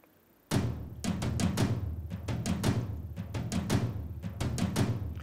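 Big hits from the World European folk drum kit in Logic Pro, played as accents: after a short quiet start, a dense run of booming, resonant drum strikes with a deep bass body rolls on at moderate level, with no voices.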